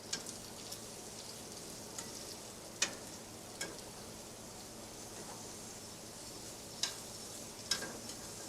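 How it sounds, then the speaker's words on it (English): Onions added to bacon frying in a pan give a steady, soft sizzle throughout, with a few sharp ticks and scrapes of stirring now and then, no talk. "Bacon. Now we're going to add the onions."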